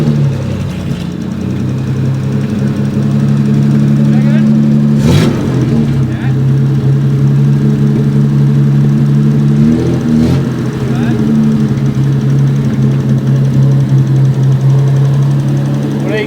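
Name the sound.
old car engine running and revving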